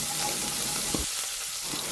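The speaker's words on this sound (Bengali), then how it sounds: "ওই তেলেই দিয়ে দিলাম এই যে পেঁয়াজ কুচি আর মরিচ কুচি।" Oil sizzles and crackles steadily as chopped onion and green chilli fry, with a brief burst of stirring scrapes partway through; no voices.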